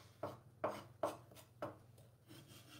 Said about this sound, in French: Et vous appuyez le couteau. Et vous verrez, ça permet de hacher assez rapidement.